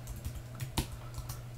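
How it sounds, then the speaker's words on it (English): Fingers tap out a quick burst of keystrokes on a computer keyboard, a series of close, light clicks over a faint background hum. "you could type it in there"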